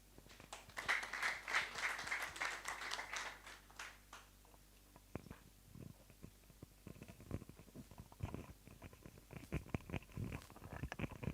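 Audience at an environmental health profession induction ceremony applauding, a dense burst of clapping that thins out into scattered individual claps.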